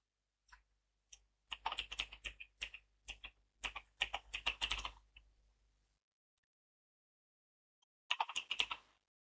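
Clicky computer keyboard typing in quick irregular bursts, close and crisp against near silence, pausing for a couple of seconds before a final short flurry.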